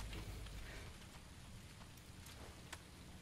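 Steady rain falling in the battle-royale video game PUBG, a soft, continuous hiss that is fairly faint throughout, heavier at the very start, with a few light spatters and no voices.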